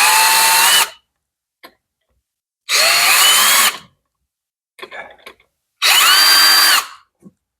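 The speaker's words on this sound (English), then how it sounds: "Let's mark it with the drill." A power drill whirs in three loud bursts about a second long each, with short gaps and small clicks and rattles between them.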